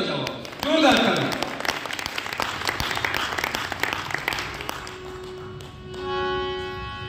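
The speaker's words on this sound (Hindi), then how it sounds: "एक बार अपने लिए जोरदार ताली बजाओ, जोरदार ताली" Audience applause at an Arya Samaj devotional gathering, loud broadband clapping building quickly and continuing steadily for several seconds, with some tonal music or sustained notes emerging toward the end.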